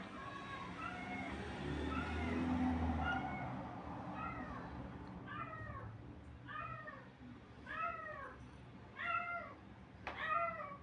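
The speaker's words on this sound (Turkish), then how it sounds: "Kedim miyavlıyor." A cat meows repeatedly, a steady series of short, rising-falling cries growing more insistent, over a low murmur of background noise.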